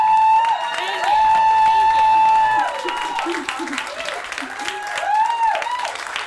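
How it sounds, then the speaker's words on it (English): An audience at a live storytelling show claps loudly, mixed with high whoops and cheering voices that rise and fall over the steady applause. "Go ahead and clap."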